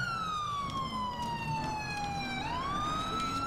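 A police car siren in a video game wails, sliding slowly down in pitch, then swooping back up, sounding steady and fairly close over a low background rumble.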